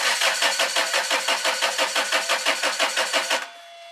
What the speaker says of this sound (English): Don't run the start motor too long, because they get hot.